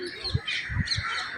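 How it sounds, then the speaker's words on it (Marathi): Birds chirp and caw outdoors at a scenic lookout, in a brief burst of a few faint-to-moderate calls with soft low thumps underneath. "मस्त पक्ष्यांचा चिवचिवाट तिथं आहे."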